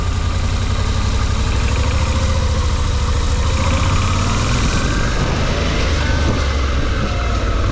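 Suzuki V-Strom motorcycle engine under way, a loud, steady drone with heavy wind rush throughout, close and continuous without a break, and no speech.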